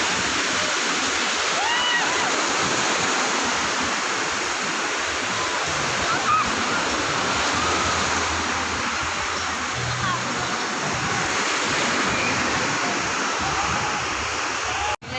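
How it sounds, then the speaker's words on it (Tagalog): Steady broadband wash of surf rolling onto a shallow beach at a resort in Batangas, Philippines, continuous and fairly loud throughout, with faint voices occasionally audible beneath. "malaki-laki na ang alon pero ang babaw pa rin."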